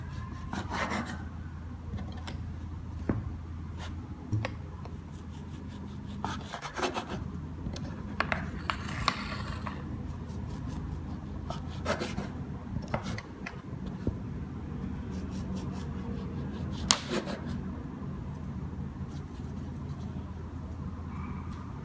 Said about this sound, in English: Take a sharp bread knife to cut it.